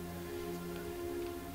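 Steady rain falling in the video game Heavy Rain, a constant soft hiss of drops on surfaces with a low droning tone underneath, even and unbroken throughout with no talk.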